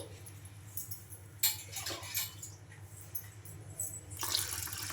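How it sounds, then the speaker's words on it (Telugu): Water sloshes and splashes in a container as moong dal is rinsed by hand, with irregular bursts and a louder swish near the end. "బాగా వాష్ చేసుకోవాలి ఈ పెసరపప్పుని వాటర్ వేసేసుకొని"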